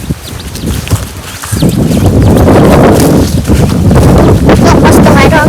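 Outdoor breeze buffets the microphone in a steady, broadband rush, lighter at first and then rising to a loud, continuous roar after about a second and a half.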